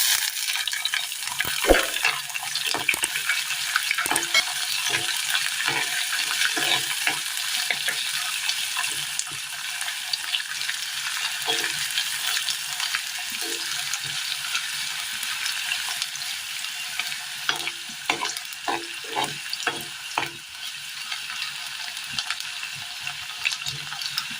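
Chopped ginger fries in a Kerala curry pan with a steady, loud sizzle, and a spoon scrapes and stirs through it in repeated short strokes.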